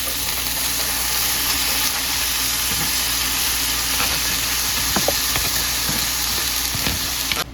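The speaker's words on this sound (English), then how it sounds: "Then I'm just going to add in my cabbage." Cabbage cooks with garlic in a hot pan, giving a loud, continuous sizzle and hiss with occasional stirring clicks and scrapes close by.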